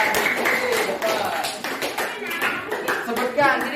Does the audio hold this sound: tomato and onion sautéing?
no